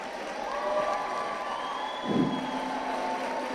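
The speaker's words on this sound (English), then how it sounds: "I think they deserve a massive round of applause." Crowd applause and cheering for a dancing couple at a Strictly club dancing final, a steady mid-distance wash of clapping with a brief swell near the middle.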